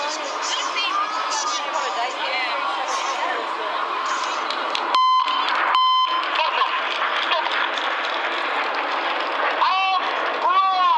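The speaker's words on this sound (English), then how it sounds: "pressing a button on the radio which generates a tone" Two short electronic tone beeps from a radio button sound in quick succession over a constant roar of Red Arrows jet engines and crowd noise at the Clacton air show.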